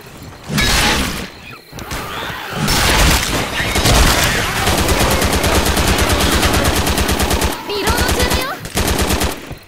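Sustained heavy fire from a big gun in Left 4 Dead 2, loud and close, with rapid rattling bursts broken by brief pauses.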